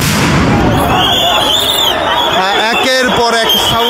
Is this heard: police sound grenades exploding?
yes